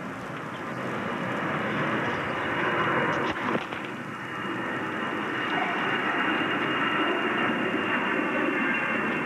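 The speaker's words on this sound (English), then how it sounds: "Plane overhead. John Wayne Airport's about 10 minutes from here." Airplane flying overhead near John Wayne Airport during a Davis Cup tennis match, a broad steady engine roar filling the background throughout with a brief clatter partway through.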